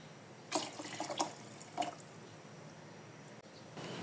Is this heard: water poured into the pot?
yes